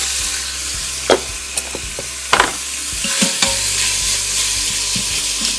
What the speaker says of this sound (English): let's add our bacon